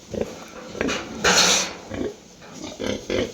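Pigs on a farm, a plump well-fed sow with her piglets, giving close grunts and short squealing snorts in irregular bursts, one louder squeal in the middle.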